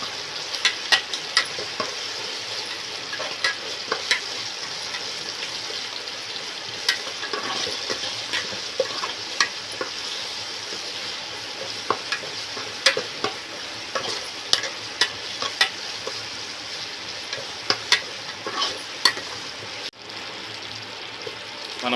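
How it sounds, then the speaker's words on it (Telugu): Ginger garlic paste frying in a pan, a steady close sizzle with frequent sharp pops and crackles scattered throughout, no talk over it. "ఈ అల్లం వెల్లుల్లి పేస్ట్ వేసిన తర్వాత పచ్చి వాసన పోయేంత వరకు బాగా వేగనిద్దాము."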